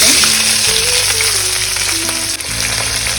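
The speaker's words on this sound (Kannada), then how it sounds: "4 ಈರುಳ್ಳಿನ ದೊಡ್ಡದಾಗಿ ಉದ್ದುದ್ದಕ್ಕೆ ಹಚ್ಕೊಂಡಿದ್ದೆ, ಇದನ್ನ ಹಾಕ್ತೀನಿ." Long-cut onion slices frying in hot oil for a fenugreek vegetable pulao, a steady loud sizzle running throughout with a music-like tonal background layered underneath.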